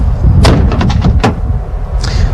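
A door on a Japanese car is shut hard while it is being locked up, giving a few loud, close thumps and clunks followed by quieter handling noise. No one talks.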